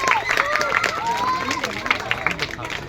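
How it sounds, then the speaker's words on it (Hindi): An audience at a stage program breaks into loud applause, a busy crowd of clapping hands with a voice speaking over it. "एक बार जोरदार ताली बजाइए"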